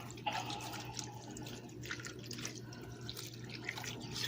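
A water mixture is poured into a cooking pot with beef neck bones and smoked ham hocks, giving faint, quiet splashing and dripping over a low hum, without talking.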